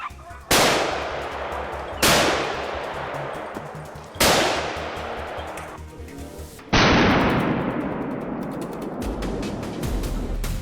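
Four loud, sharp rifle shots fired by hunters at wild boar, each crack followed by a long rolling echo decaying across open country, with the last report slightly duller; no talking.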